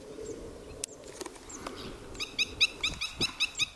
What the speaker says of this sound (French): Cet appareil-là nous permet d'imiter des cris d'oiseaux pour pouvoir les faire partir.